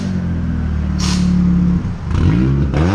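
A tow truck engine running a little rich revs loudly, a deep steady rumble that dips briefly and then climbs again as the revs change near the end.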